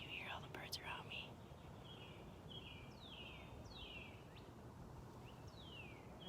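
Several birds chirp in short descending calls outdoors, fairly faint against a soft breezy background, with a brief whispered voice at the start.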